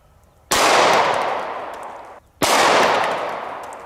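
Two heavy handgun shots fired outdoors at bricks, a 9mm and a .500 Magnum, each a loud sharp blast with a long rolling decay, spaced about two seconds apart.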